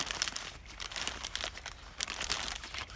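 Plastic soil bag used as a vegetable planter crinkles and rustles as it is folded down, a dense run of close, crisp crackles with no talking.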